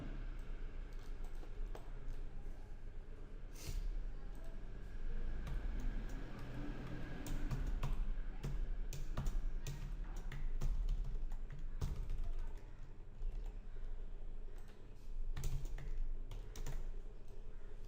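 Steady light clicking of a computer keyboard runs throughout, with irregular key taps against a faint background hum, fairly soft and without voices.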